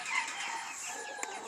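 Brahma and Golden Comet chickens in a farm pen cluck and chatter softly, a dense, continuous flock sound with one brief sharper call near the end.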